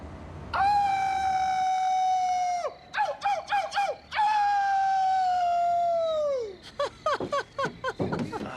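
People howling at the moon on Mulholland in imitation of coyotes: two long, drawn-out voiced howls, each followed by a burst of short yipping yelps, close and fairly loud.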